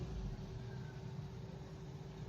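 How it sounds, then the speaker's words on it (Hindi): A 2004 Honda Civic with a 1600cc engine idles steadily nearby, a low continuous hum with a faint tonal whine and no talk over it. "इंजन का साउंड आपके सामने है जी"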